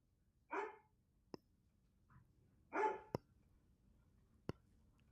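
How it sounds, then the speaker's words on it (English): Dogs barking indoors during a live home broadcast: two short barks a couple of seconds apart with sharp clicks between them, faint and distant in a quiet room. "the dogs are going to be barking here"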